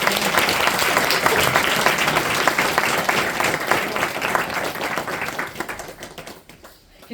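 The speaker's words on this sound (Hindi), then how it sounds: "अब तालियां बजा दो।" Audience clapping at a devotional satsang gathering, a dense sustained wash of many hands that holds steady for about six seconds, then thins and fades out near the end.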